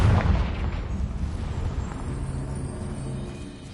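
A fiery Confringo spell cast in Hogwarts Legacy bursts with a booming blast at the start, then a rumbling, crackling roar that lingers steadily before easing off.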